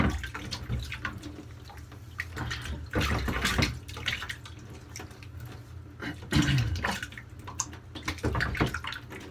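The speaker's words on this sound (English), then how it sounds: "Let me go ahead and rinse this off." A straight razor carrying citrus shaving soap is rinsed under a running tap, the water splashing in uneven bursts near and fairly loud with no talking over it.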